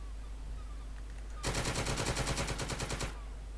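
Rapid, dense automatic gunfire erupts in a World War II Normandy beach landing video game, a sustained loud burst of machine-gun fire lasting about two seconds after quiet background ambience.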